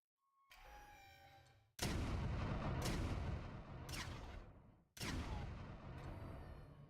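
Gunfire in the video game Project Aftermath killing a hero, loud booming shots in a few heavy bursts with reverberating tails, close and without talk.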